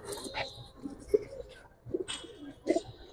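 Sabchila breed pigeons coo softly in a loft, a few low, throaty coos repeating at uneven intervals over faint background rustle and distant noise.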